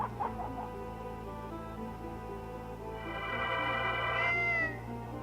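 A cartoonish cat meows in an RPG Maker video game, a couple of drawn-out, high-pitched mews in the latter half over a low, steady background hum.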